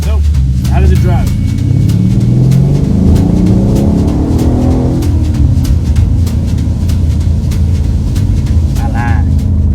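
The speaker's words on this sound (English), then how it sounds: "This thing has a twin turbocharged V8 under the hood." A Mercedes-Benz CLS 550 with a 4.7-liter twin-turbocharged 400-horsepower V8 drives steadily, its low engine drone rising and falling, with someone talking over it throughout and brief ticking noises.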